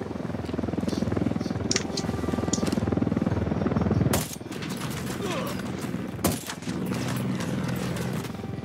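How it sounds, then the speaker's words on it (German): A helicopter firing in the video game Ghost Recon Wildlands, heard as a dense, loud stream of rapid gunfire over rotor rumble, broken by a couple of sharp blasts and quieter stretches. "Hubschrauber ist da irgendwo. Ja, der ist Pflicht hier. Der schießt hier auf."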